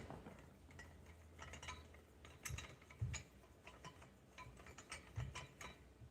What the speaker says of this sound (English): This guy is the spring compression tool right here. So we loosen this up.